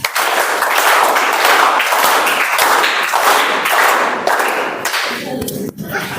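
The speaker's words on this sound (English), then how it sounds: "we're going to clap" Audience at a Whitefield Toastmasters meeting clapping together on a countdown, a dense, loud burst of many hands lasting several seconds before tapering off.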